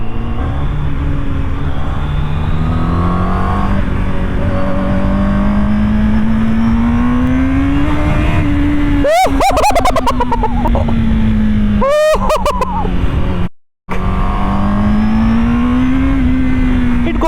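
A motorcycle engine revs hard on a Mumbai street, its pitch rising and falling through long pulls, loud and close, with sharp brief street noises cutting in partway through.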